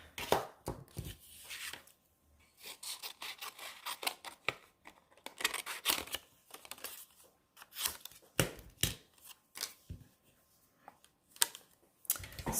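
Scissors cut through paper up close during a card-crafting session, with many quick, crisp snips in irregular bursts and short pauses between them.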